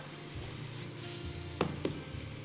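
Minced meat and onion fry in a pan with a steady soft sizzle, broken by two quick clinks of a utensil near the end.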